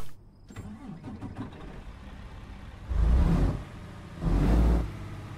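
A truck engine in American Truck Simulator cranks and catches, with a brief starter whir followed by two loud, low revving surges that settle back to a rumbling idle, heard up close with no talking.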